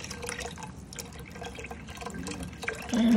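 Low sodium chicken broth pours into a soup pot for Puerto Rican chicken soup, a steady close liquid splashing and trickling that swells louder near the end, with no talking.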